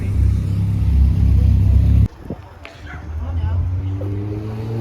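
A Peugeot 306 diesel turbo car pulls in to park: a loud, low engine rumble holds for two seconds, then cuts to a quieter idle with rising engine tones as the car manoeuvres, while people talk nearby.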